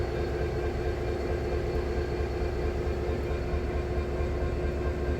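A 3S70 railhead treatment train idles at Shoeburyness station, a continuous low diesel rumble with a steady tonal hum that stays loud and even throughout, with no voices.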